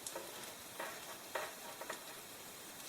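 A bread roll sizzling in bacon fat on a Tefal Malaga nonstick plancha griddle, a soft steady crackle with a few brief scraping strokes as it is pushed through the grease.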